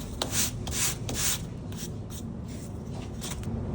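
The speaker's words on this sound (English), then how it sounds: "I can start sanding this" Repeated rhythmic scraping strokes of hand sanding drywall compound on yellow foam, a steady back-and-forth rasp, close and moderately loud.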